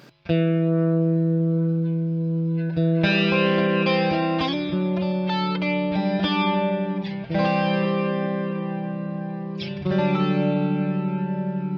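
Sustained electric guitar chords drenched in a shimmering chorus effect from a Walrus Julia chorus pedal, with some distortion and echo, played slowly with occasional chord changes.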